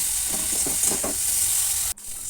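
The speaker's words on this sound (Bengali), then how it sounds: "নুন আর হলুদ দিয়ে দিলাম এবার হালকা লাল করে ভেজে নেব" Cauliflower with salt and turmeric frying in a pan: a loud, steady close sizzle with a few quick stirring scrapes, cut by a brief drop near the end.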